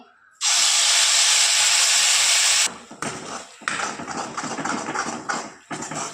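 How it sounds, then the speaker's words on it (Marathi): Ground gravy paste for methi kofta curry hits two ladles of hot oil with a sudden, loud hissing sizzle. The sizzle then settles into steady, close crackling frying, broken up by stirring sounds. "दोन पळी तेल छान तपलेलं आहे आता यामध्ये आपण जो मिक्स होता ग्रेव्ही ती टाकूया"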